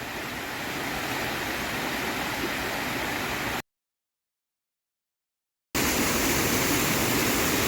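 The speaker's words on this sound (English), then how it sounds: "This is Upper Snow Creek Falls." Upper Snow Creek Falls pours in a steady, loud broadband rush of falling water, heard close and alone, with a stretch of silence in the middle.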